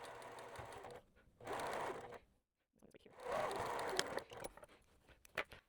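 A sewing machine stitching a flying geese quilt block runs in two steady whirring bursts separated by a short pause, followed by lighter fabric handling and clicks, close up with a voice faintly present.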